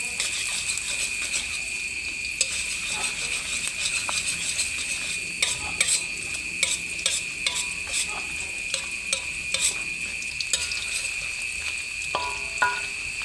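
Garlic and shallots stir-fry in hot oil as the base for green beans with tempeh in oyster sauce, giving a steady, close sizzle with scattered light clinks and scrapes of a utensil throughout.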